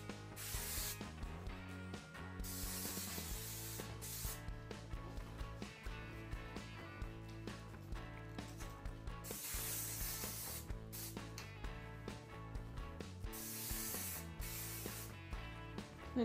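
Steady hiss of an aerosol hairspray being sprayed in long repeated bursts, close up, with short pauses between sprays.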